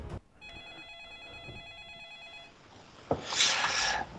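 A telephone rings out over a line for a couple of seconds, steady electronic tones heard close and faint, followed by a brief clunk and a burst of noise as the call connects.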